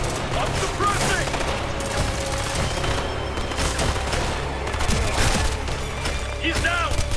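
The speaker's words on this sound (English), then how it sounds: "Under heavy fire!" Heavy continuous gunfire in the tactical shooter Ghost Recon: Future Soldier, dense overlapping rifle and machine gun bursts with explosions throughout, loud and sustained beneath shouted squad voices.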